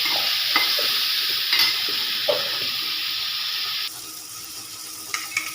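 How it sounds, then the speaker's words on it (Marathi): Green beans sauté in hot oil with a steady bright sizzle, broken by several short scraping stirs, and the sizzle drops quieter near the end. "तेलात परतवून घ्यावे."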